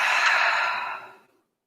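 A deep, breathy exhale from a person during a guided breathing and movement exercise, a single sustained airy rush lasting about a second before fading into silence, close and fairly loud.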